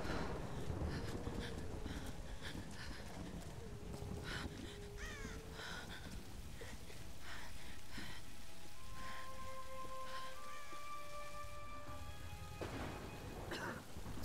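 Steady rain falling in the video game Tomb Raider (2013), a dense continuous wash with crow-like caws and occasional tonal game sounds layered over it.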